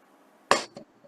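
A single sharp hammer blow on a nail, close and loud, followed by a smaller knock, with quiet room tone around it.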